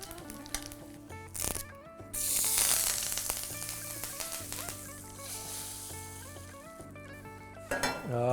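Cumin, mustard seeds and Byadgi chillies crackle and sizzle in hot oil for a tempering, with a loud hiss as the chillies go in, light clinks of a pan and spoon, and no voices.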